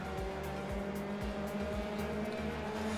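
Open-wheel F3 race cars in the iRacing sim at Monza, including an orange McLaren, drone past together with steady high engine whine and repeated sweeping pitch drops as the pack brakes and downshifts into Parabolica.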